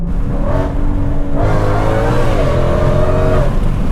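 A 900-horsepower Ford Shelby GT500 King of the Road roars as it accelerates hard, loud and close, pitch climbing through a gear before pulling again, with no voices.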